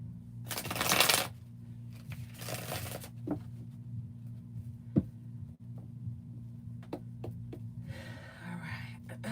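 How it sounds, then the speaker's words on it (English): A deck of tarot cards is shuffled in two brisk riffling bursts near the start, followed by a few faint taps and card handling in a quiet room, with soft rustling at the end. "Shuffle for you, Libra."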